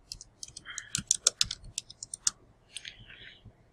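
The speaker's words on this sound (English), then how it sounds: "You just type in your regular word." Someone types a word on a computer keyboard while using the type tool in font-preview software for a Brother ScanNCut cutting machine. Quiet, close key clicks come in an uneven burst with brief gaps and no talking.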